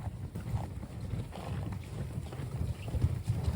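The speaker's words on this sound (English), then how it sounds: "we brought in the rest of the horses and mules" Horses and mules plod along a rocky wilderness trail in the Frank Church Wilderness, their uneven hoof clops thudding close amid steady wind and rustling noise.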